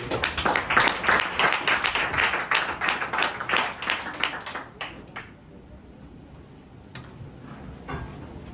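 An audience at the Bourget pitch-competition final applauds a student rocket team, brisk crowd clapping for about five seconds that stops abruptly, leaving a few isolated claps and faint room sound.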